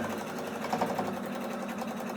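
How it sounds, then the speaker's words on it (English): Sewing machine running steadily while stitching a paper-pieced New York Beauty quilt block, a continuous close mechanical whir with a rapid needle rhythm throughout. "So I'm going to take this to the sewing machine."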